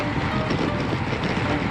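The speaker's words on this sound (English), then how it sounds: "The entire ride, we have some kind of wind." Steady broadband wind rushing across the microphone during a group road bike ride, a constant roar with low buffeting and no clear talking.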